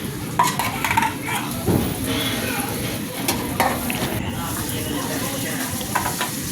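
Meat sizzling and frying in a pan while a utensil stirs and scrapes it in steady strokes, close and fairly loud, with occasional clinks of metal on the pan, for a Filipino sautéed squash dish.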